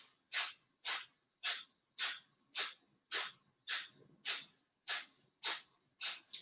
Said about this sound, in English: Exhaling through the nose in breath of fire.